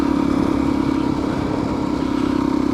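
An off-road motorcycle engine drones steadily on a trail ride in Beef Basin near Moab, a loud, close, even buzz with a constant rhythmic pulse and no talk over it.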